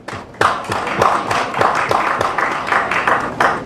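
Audience at the 13th UK-Uganda Summit on trade and investment applauding, a dense, steady patter of many hands clapping close and loud throughout, with no voices over it.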